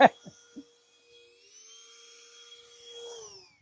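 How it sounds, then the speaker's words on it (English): A vacuum cleaner whines steadily while it cleans a backyard garden. It starts with a few clunks, then holds a thin, high motor tone that slowly swells in volume, with nobody talking. "This is Michael vacuuming his backyard."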